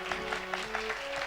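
Listeners at a Shri Ram Katha religious gathering clap to honour the helpers and volunteers, a quick, even beat of soft claps over a sustained musical drone, heard faint and slightly distant.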